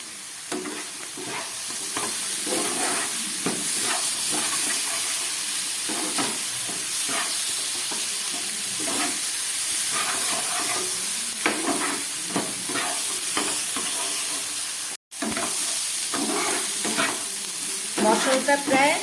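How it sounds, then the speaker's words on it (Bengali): Turmeric-spiced masala with onion, ginger and garlic sizzles over low gas in a pan for a pomfret fish dish, a continuous close frying hiss broken by repeated scraping stirs. "মশলাটা প্রায় গ্যাস কমিয়ে 2-3 মিনিটের মতো আমি কষিয়ে নিলাম।"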